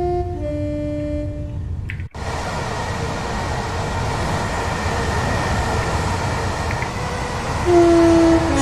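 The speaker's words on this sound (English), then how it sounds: "It's what I call a long train." A long train rolls past in Train Sim World 2 on a London commuter route at rush hour, giving a loud, steady rumble that fills the whole stretch, with brief horn-like tones near the start and again at the end.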